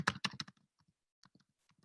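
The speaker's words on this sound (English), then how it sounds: "I'm just typing in a random sentence here just to make sure that I get a user who does not exist." Typing on a computer keyboard while entering a sentence into a login form: a quick burst of close, crisp key clicks, then a few scattered single taps with pauses between them.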